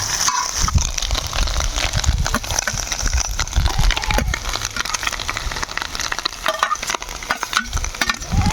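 Chopped tomato and green chili are stir-fried with eggs in a pan, giving a close, continuous sizzle broken by scraping and stirring strokes, busy and fairly loud throughout with no speech.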